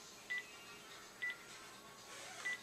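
Three short, faint two-tone keypad beeps from a phone being dialed, evenly spaced about a second apart over a low room hiss, with no talking.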